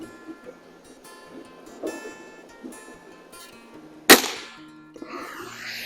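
A Diana 460 Magnum air rifle fires a single sharp crack with a brief ringing decay, standing out after quiet background sounds and faint talk.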